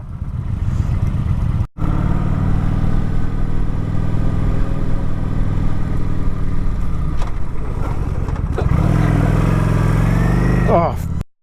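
A 2012 Kawasaki Vulcan 900 motorcycle rides in first gear, its engine droning loud and close with a momentary cutout. It then surges and winds down to an abrupt halt in a hard emergency stop, with voices talking over it.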